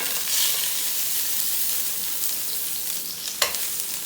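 Rinsed pigtails go into a hot pot for Louisiana-style beans and rice, giving a steady close sizzle and hiss of frying, with a brief sharp clatter near the end.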